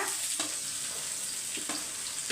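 Shredded cabbage frying over a low flame in a pan after being added without onion, a steady soft sizzle broken by a few brief stirring scrapes, close and alone with no talk.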